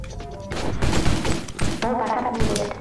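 Explosions and gunfire in the video game Stick It to the Stickman, a dense, continuous barrage of booms, cracks and shattering bursts lasting the whole stretch, with no pauses between blasts.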